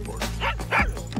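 A dog in the video game Far Cry 6 gives two short yippy barks with a whimpering edge, close and clear.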